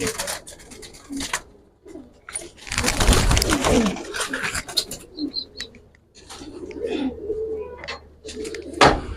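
Young Giribaz pigeons in a loft make soft cooing and chirping calls, mixed with bursts of handling noise and shuffling close by while people talk intermittently.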